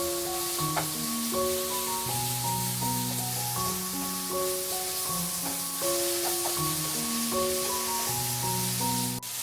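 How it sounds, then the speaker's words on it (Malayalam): Chopped cabbage stir-fried in a pan for Kerala cabbage thoran, with a steady close sizzle and occasional stirring under a bed of sustained background music. "ക്യാബേജും ചേർത്ത് കൊടുത്തതിന് ശേഷം വീണ്ടും നല്ല രീതിയിലൊന്ന് മിക്സ് ചെയ്ത് വഴറ്റി കൊടുക്കണം."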